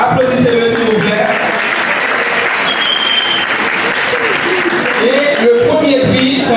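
A crowd at a live Haitian quiz and prize-giving event in Paris applauds loudly and continuously. Voices and some shouting rise over the dense clapping.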